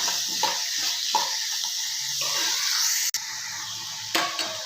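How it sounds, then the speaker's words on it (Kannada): Onions frying in a pan give a soft, continuous sizzle with occasional stirring clinks and scrapes, heard close and fairly quiet without talk. "ಈರುಳ್ಳಿ ಚೆನ್ನಾಗಿ ಹುರ್ಕೊಳ್ಳೋಣ ಸ್ವಲ್ಪ ಈರುಳ್ಳಿ ಕಲರ್ ಚೇಂಜ್ ಆಗುತ್ತೆ"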